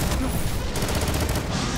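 Graviton Lance, a weapon in the video game Destiny 2, firing a rapid burst of loud, dense shots that run continuously through the moment with no pauses.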